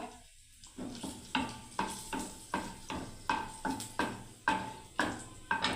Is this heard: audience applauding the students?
no